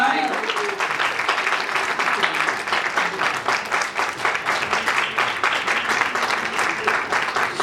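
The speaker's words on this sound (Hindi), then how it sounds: "अरे तालियां थोड़ी जोर से बज सकती है भाई" Applause from the audience at a music label launch event, many hands clapping in a continuous, moderately loud stream that persists evenly throughout.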